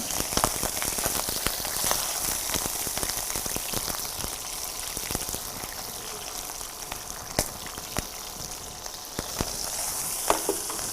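Pot sticker dumplings sizzle and crackle in a hot pan with a splash of water, a dense steady spitting hiss with occasional louder pops, close by and without talk.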